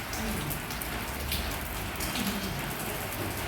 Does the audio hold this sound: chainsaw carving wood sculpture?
no